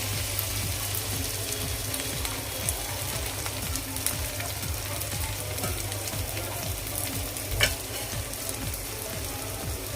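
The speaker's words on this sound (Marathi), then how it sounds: "अंडे घालूया इथे मी तीन घेतले आहेत ती घालते आता" Three eggs added to a pan of cauliflower for an egg bhurji, frying with a dense, steady close sizzle and light crackle throughout, with no talking.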